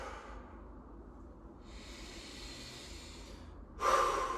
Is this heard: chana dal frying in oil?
no